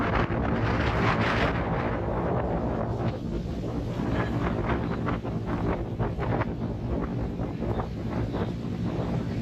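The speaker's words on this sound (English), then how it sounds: "it's really windy here today in Belize" Strong wind buffets the microphone in Belize, a loud, continuous rushing roar with gusty swells and no speech.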